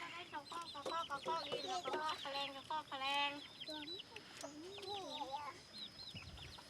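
Several chickens cluck and chatter busily nearby, overlapping calls with a few rising squawks, steady throughout.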